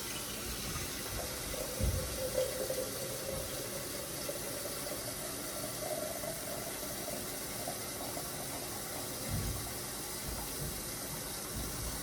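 Hot water runs steadily from a kitchen sink tap into a canning pot, a continuous broad hiss of flow with a faint gurgle, fairly quiet and unbroken throughout, no voices.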